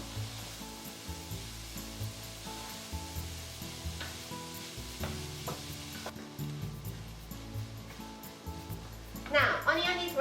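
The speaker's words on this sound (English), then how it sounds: "Just keep sauteing." Garlic and onion sauté in a pan over rice, a continuous soft sizzle with occasional spoon scrapes and taps, close but moderate, with background music running throughout.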